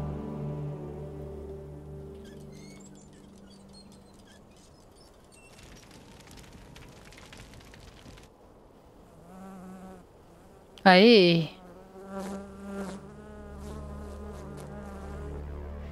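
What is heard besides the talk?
wasp buzzing in the video game Dead Rising 3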